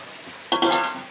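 Small pufferfish dropped into a hot pan with onion, garlic and tomato, setting off a sudden close, loud sizzle that swells in two quick bursts and keeps crackling.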